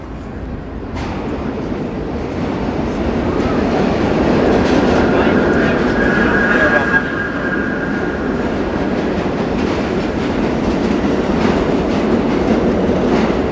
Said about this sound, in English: That's some train noise, I mean subway noise.